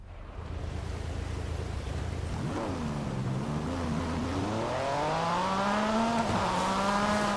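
A naturally aspirated Porsche GT3 RSR race car engine in Forza Horizon 5 revs up steadily, its pitch climbing and wavering as it accelerates, loud and continuous with no talking.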